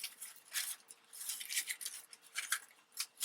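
Scissors snipping through strips of paper napkin, a quiet close series of irregular crisp cuts and rustles, several snips over a few seconds with no talking.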